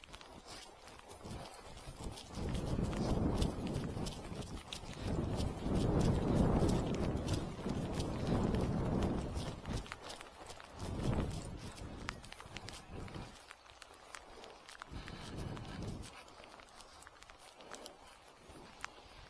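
Hooves of a small hoofed animal squelching and clopping through mud outdoors, irregular soft steps with wet sucking sounds at moderate distance.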